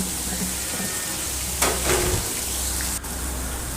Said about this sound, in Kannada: ಒಗ್ಗರಣೆನ ನೀಟಾಗಿ ಫ್ರೈ ಮಾಡ್ಕೊಳ್ಳೋಣ.